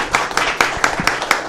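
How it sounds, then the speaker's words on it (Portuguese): A round of applause at a municipal commission meeting rings out as sharp, evenly spaced claps in a short, regular rhythm that carries through the room. "Eu gostaria de pedir a todos, mais uma vez, uma salva de palmas para o doutor Araquém"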